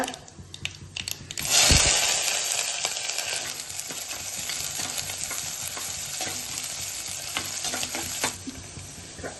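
Mustard seeds and a couple of dried red chillies hit hot oil with a sharp burst of sizzling, then settle into steady crackling and popping frying noise close by, with faint utensil clinks.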